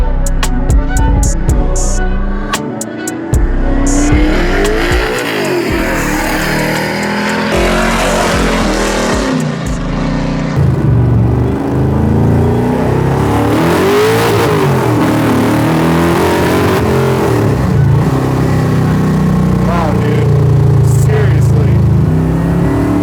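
1969 Chevelle with a 632 cubic inch big block Chevy crate engine revving hard, tires spinning, loud and close with rising and falling engine sweeps and a burst of tire noise partway through.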